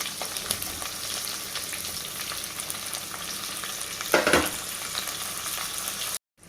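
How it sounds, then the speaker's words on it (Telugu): Onions with green chillies frying in a pan for potato curry, a steady close sizzle throughout with a brief louder burst of stirring near the end, then a sudden cutoff. "పచ్చిమిరపకాయలు 2 నిమిషాలు అట్లాగా వేగుతూనే మనం తీసుకున్న ఎర్రగడ్డ అంతా వేసేయాలి."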